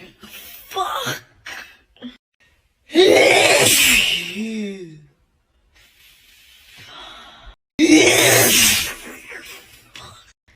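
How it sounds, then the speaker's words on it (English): Two forceful sneeze-like bursts from a person, separated by breathy gasps and muffled vocal sounds, close and loud. "my experiment proves that it is impossible to sneeze with your eyes open"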